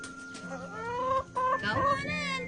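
Farm chickens cluck and squawk in a rapid, busy run of calls, fairly close and loud, with a faint voice in the background.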